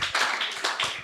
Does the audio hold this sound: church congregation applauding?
yes